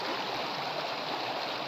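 Steady, continuous rush of water flowing in a stream or canal, close and loud, with no talk over it.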